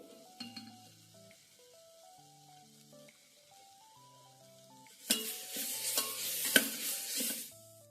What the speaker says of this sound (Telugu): అల్లం వెల్లుల్లి పేస్ట్ ఆనియన్ పచ్చిమిర్చి సో పసుపు అన్నీ కూడా ఆయిల్లో కొద్దిగా అలాగా ఫ్రై అయిన తర్వాత